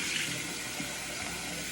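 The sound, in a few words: water running to rinse out a jar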